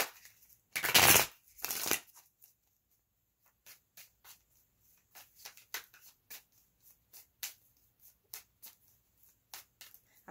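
A deck of cards is shuffled in two loud riffling bursts near the start, followed by a run of softer, scattered taps and flicks as the cards are handled up close in a quiet room.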